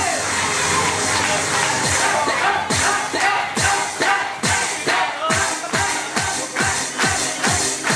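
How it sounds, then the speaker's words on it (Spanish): Clapping and crowd noise at a fishing club prize-giving in Minas, Uruguay, dense and lively, with a series of strong rhythmic thuds that punctuate the applause. "Fuerte, fuerte, fuerte, fuerte el aplauso."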